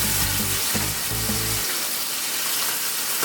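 Pork chops fry in a pan with honey, soy sauce and apple cider vinegar, a loud bubbling sizzle with bursts of stirring, the crackle thinning toward the end.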